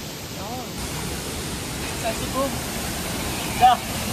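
Talay Falls waterfall in Laguna: a steady, full broadband rush of falling water runs through the whole stretch, with people's voices talking over it.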